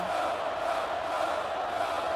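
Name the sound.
crowd cheering at a football semifinal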